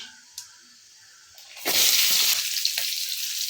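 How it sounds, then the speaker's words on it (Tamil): Onions with green and dry red chillies hit hot oil already crackling with mustard seeds and fennel, bursting into a loud, steady sizzle partway through that continues close and alone to the end. "வெங்காயமும் மிளகாயும் நல்லா வதங்கட்டுங்க"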